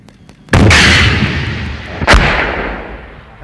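A Bofors anti-tank missile launches with a sharp, loud blast and a roaring rush, then about 1.5 seconds later it strikes a main battle tank with a second heavy impact boom that rolls off into a decaying rumble. No one speaks.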